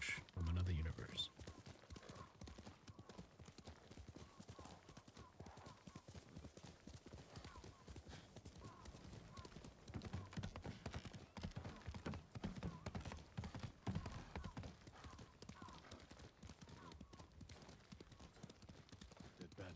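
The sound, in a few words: horse galloping in video game Ghost of Tsushima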